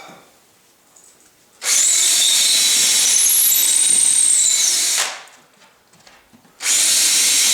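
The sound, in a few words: power drill drilling holes for workbench drawer handles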